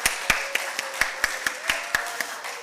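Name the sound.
church congregation applause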